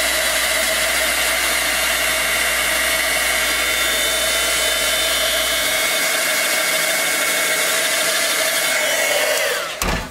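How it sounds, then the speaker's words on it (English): A heat embossing gun blows hot air to dry stamped ink, a loud, steady, close whooshing roar with a low hum that drops out partway through, running alone without any talk. "I'm going to bring in my embossing gun"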